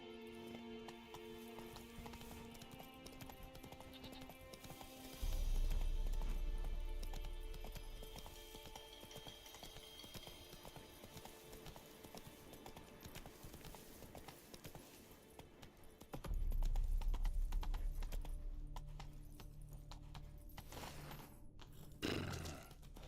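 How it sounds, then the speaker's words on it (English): Roach, the horse in The Witcher video game, gallops with rapid hooves clip-clopping in two loud bursts over steady background sound, fading between runs. "О, лошадка, привіт. Come on, Roach."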